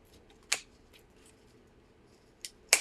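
Sharp, close snips cut foam scrap pieces in half, with one crisp cut early, then a quiet gap, then two quick cuts near the end.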